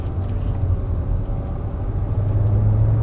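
A 2026 Hyundai Palisade Calligraphy AWD pulling away under throttle, heard as a steady low engine and road rumble from inside the cabin, fairly loud and even throughout.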